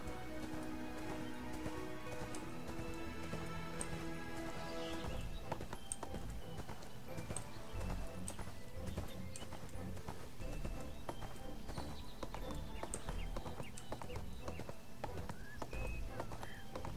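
Horse hooves clip-clopping in the online game ArcheAge, a continuous steady trot of close, distinct hoofbeats, with speech and game sounds softly underneath.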